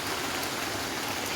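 Heavy rain pours steadily at the Lokhra outdoor market, a dense, even hiss of drops on surfaces that stays constant and close throughout, with no voices.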